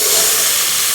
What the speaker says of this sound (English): Now let's add our chickpeas.